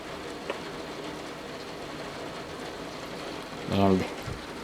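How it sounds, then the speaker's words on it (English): Heavy rain pours steadily in a dense, even hiss during a thunderstorm, with gutters overflowing; a brief voice cuts in near the end. "The rain is just falling at an incredible rate."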